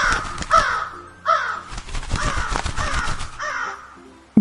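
A thirsty crow in a children's moral story caws in several loud, close, harsh calls separated by short pauses, with a final abrupt caw at the very end.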